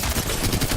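Rapid automatic gunfire from Apex Legends cracks in a quick, close, loud burst of shots.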